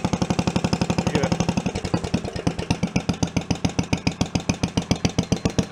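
Homemade tractor engine idling on its own as a steady single-cylinder thump, close and loud, with an even pulse of firing beats throughout.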